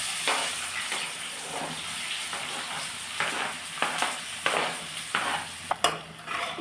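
Whole spices and onions fry in hot oil in a pan for a Bengali chicken dish, giving a continuous close sizzle broken by scraping stirs and occasional sharp clinks of a utensil against the pan.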